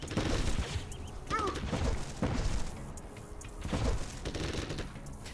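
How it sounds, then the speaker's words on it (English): Flashbangs and gunfire crackle in C&C Generals Zero Hour, a busy run of bursts and booms at moderate level, mixed in with a commentator's voice. "Or flashbangs out for Ganja"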